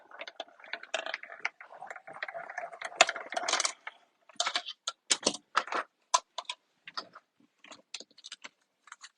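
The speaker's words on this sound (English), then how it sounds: "Run that through our die cut machine." A die cut machine cutting paper for a wreath card, heard close and alone as a dense mechanical whirring roll of a few seconds, then a scatter of sharp clicks and clacks that trail off.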